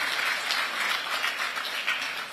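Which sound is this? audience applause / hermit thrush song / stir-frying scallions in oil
audience applause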